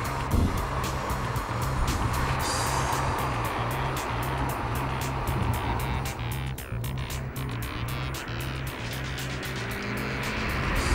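A car drives along a country lane with a steady engine drone and road roar, recorded from inside and continuous throughout, with faint rhythmic ticking over it and no voices.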